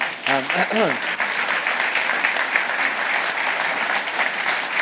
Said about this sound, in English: We should give Hank a round of applause